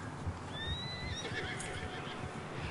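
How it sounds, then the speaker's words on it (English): A horse in Red Dead Redemption 2 lets out a loud, rising whinny up close, followed by soft hoof clip-clops and a quieter breathy snort over a steady game ambience. "Charles's horse as well, Taima, is very, very pretty."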